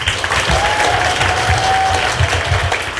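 An audience claps at a Korean book concert and author meet-and-greet, a full, dense burst of applause sustained evenly and loudly for a few seconds without pause.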